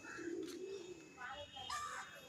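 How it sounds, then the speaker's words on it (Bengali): Pigeons in a field coo softly and at a distance, a few low rolling calls amid faint background noise, with someone talking quietly nearby. "পায়রা ডাকছে"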